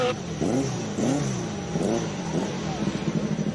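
Race car engine at the Simola Hillclimb, revving toward 11,000 RPM: loud, repeated rising revs and gear-change surges over a few seconds, with a faint voice in the background.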